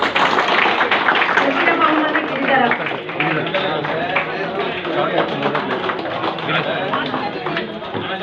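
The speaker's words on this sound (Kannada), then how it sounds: "ಎಲ್ಲರೂ ಚಪ್ಪಾಳೆ ತಟ್ಟಿ" Audience at a municipal workers' day ceremony giving dense, sustained applause that fills the whole stretch, loud and close, with voices talking beneath it.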